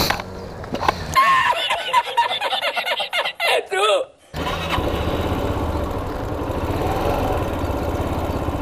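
A small A1-licence learner motorcycle engine starts after a stretch of low voice-like sound, then settles into a steady, close mid-pitched running drone that continues to the end.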